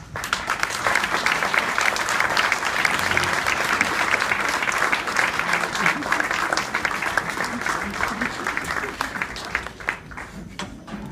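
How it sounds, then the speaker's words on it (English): At a fourth-grade school concert honoring karate students, an audience gives steady, dense applause for several seconds, holding level and then thinning out near the end. "stand up and receive your applause"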